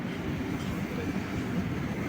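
Island Express train pulling slowly out of Nagercoil Junction, heard as a steady low rumble and rolling rail noise from inside the carriage, continuous and fairly loud throughout.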